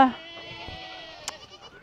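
Goats at feeding time give a drawn-out, wavering bleat that fades, followed by a brief sharp knock and light rustling nearby.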